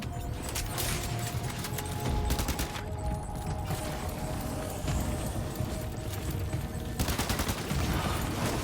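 Gunfire rattles without pause through a Death Stranding 2 game scene as dense, near bursts of shots. Heavy thumps and clattering sit under the shooting, and no voices are heard.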